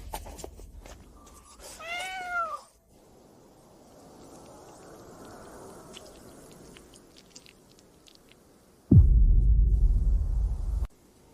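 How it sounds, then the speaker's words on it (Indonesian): A cat gives a single clear meow, followed by quiet background hiss and then a loud low rumbling noise near the end. "Kayaknya aku dengar suara kucing."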